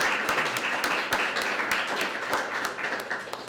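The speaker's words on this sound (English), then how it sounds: "So please give a big round of applause for Amanda for bringing this to Canada" Audience applause fills a startup networking event in London, Ontario: dense, steady clapping from a crowd, close and sustained throughout with sharp individual claps poking out of the wash.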